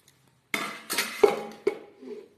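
A utensil scoops hot pressure-cooker rice from a pot, giving a few close clinks and scrapes of metal in quick succession after a short silence.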